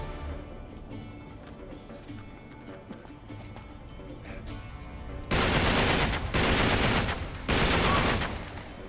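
Sniper gunfire in Uncharted 3: Drake's Deception, with faint scattered shots that give way to three loud, close, sustained bursts.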